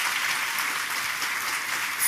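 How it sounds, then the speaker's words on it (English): Steady audience applause fills the room at a professional development day, a dense, even patter of many hands clapping at moderate distance throughout. "Please give yourselves a round of applause."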